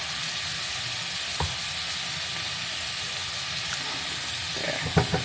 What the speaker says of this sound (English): I'm going to throw some beans with the juice also into this pan